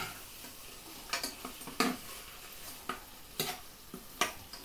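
Ingredients being stirred in a pan for a creamy Cajun chicken stew, with soft scraping and clinking strokes at an uneven pace over a faint sizzle, fairly quiet and close, no talk.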